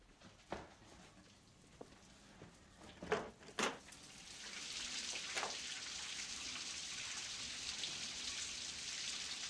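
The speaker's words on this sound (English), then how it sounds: "I love the rain." Rain falls and patters, starting with a few scattered drops and knocks and then building into a steady, even hiss that lasts to the end.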